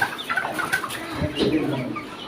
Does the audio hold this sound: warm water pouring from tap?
no